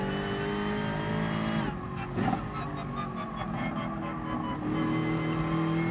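A race car engine in Gran Turismo Sport drones at high pitch, then the throttle lifts off abruptly and the engine settles into a lower, burbling note before building again.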